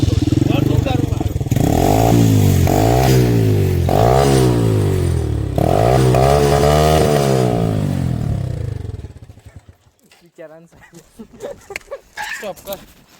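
A motorcycle engine putters loudly close by, its pitch repeatedly rising and falling in short revs, then cuts off, leaving clatter and brief voices.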